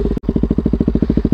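KTM Duke 200 motorcycle fitted with a full-system Akrapovic exhaust and no dB killer, idling loudly up close with a steady, rapid lumpy exhaust pulse after a brief gap at the start.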